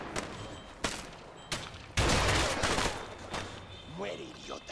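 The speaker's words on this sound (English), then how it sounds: "I guess we're shooting." Gunfire in the video game A Way Out, a few loud sharp bursts with one heavy blast near the middle, up close and mixed with game noise.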